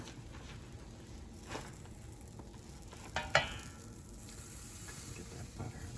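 Banana slices cook in a buttered pan for walnut pancakes, giving a faint, steady sizzle with a few soft clicks and taps from the pan.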